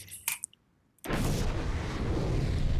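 Nuclear strikes landing in a raids and nuclear strikes video game, a few sharp pops followed by a brief hush, then a massive sustained rumbling blast that fills the rest of the moment.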